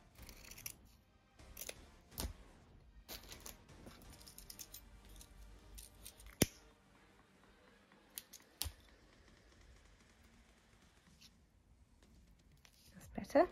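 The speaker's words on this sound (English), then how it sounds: "I am just going to trim off this excess overhang that we have here." Scissors trimming excess ribbon overhang for a handmade hair bow: a few crisp, close snips spread across the stretch, quiet overall, with soft handling noises in between.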